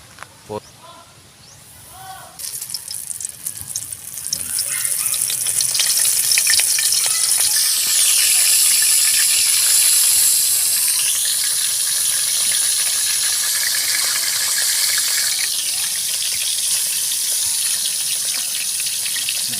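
Flour-dredged scallops go into hot oil one by one, and a loud, steady sizzle of frying builds quickly and continues, with a voice heard briefly at the start.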